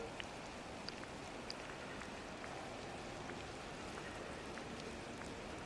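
Heavy rain pours down steadily in a dense, even hiss of drops striking surfaces, with occasional faint louder drips, faint and unbroken throughout.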